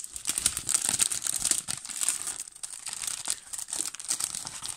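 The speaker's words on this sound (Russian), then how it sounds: "Открываем и достаем сами листы." Leuchtturm GRANDE 4C banknote album sheets are unpacked close up, with continuous crinkling and tearing of plastic packaging, rustling in irregular bursts with no voices.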